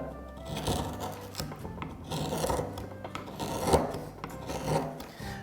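A sharp chisel cutting into hardwood while carving a decorative wooden mould, continuous scraping and rasping with uneven bursts, close and moderately loud.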